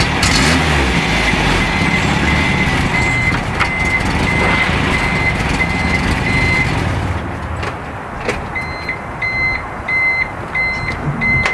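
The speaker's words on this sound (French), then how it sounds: "En tout cas on entend un bip" A loud idling truck engine rumbles, then a regular series of high reversing beeps sounds clearly once the engine noise drops.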